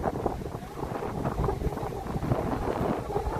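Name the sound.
wind blowing into a Samsung Galaxy phone microphone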